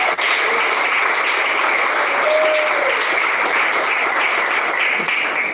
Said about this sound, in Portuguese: Pode bater palmas, glorifica a Deus.